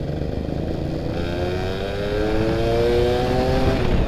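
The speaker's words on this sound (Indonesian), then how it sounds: "Motor ini larinya masih enak banget." A Yamaha F1ZR two-stroke motorcycle engine running steadily while being ridden, loud and close, its pitch climbing smoothly as it accelerates with a buzzing whine.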